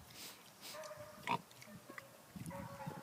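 Weaner pigs graze on grass outdoors, giving soft snuffling grunts and one brief louder oink amid faint rustling, with no voices.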